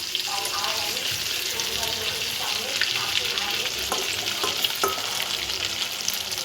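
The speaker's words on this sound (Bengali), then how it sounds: "আমি এগুলো এবারে উল্টে পাল্টে ভালো করে ভেজে উল্টে দিচ্ছি।" Fish chops frying in oil in a pan give off a steady close hiss and crackle, with occasional sharper pops and the scrape of turning as they are flipped.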